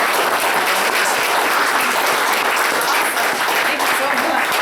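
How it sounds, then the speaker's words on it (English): A seated audience at a business networking talk claps in a dense, steady round of applause, loud and continuous throughout with no pause. "let's get a big round of applause"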